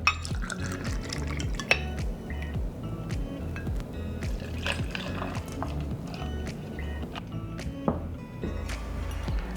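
Vodka poured into a cocktail shaker for a Sex on the Beach cocktail: a close, gurgling liquid stream with small splashes and drips, moderately quiet and steady throughout.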